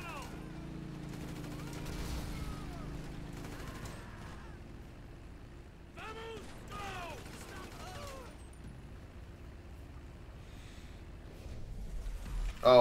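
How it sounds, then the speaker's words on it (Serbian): Pistol gunfire in the video game GTA V rings out in scattered shots during a heavy shootout, moderately loud, with a voice talking at times. "Znači, ovdje sam prisiljen na pucanje"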